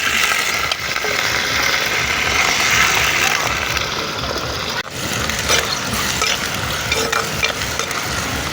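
Chopped onions fry in hot oil with cumin seeds and curry leaves, a dense, steady sizzle that stays loud and close for the whole stretch, with a brief dip midway as the pan is stirred.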